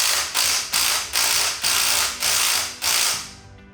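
A ratchet wrench tightening a bolt on a powered Jeep top, six quick rhythmic bursts of close metallic ratcheting clicks, each fading before the next, with no talk.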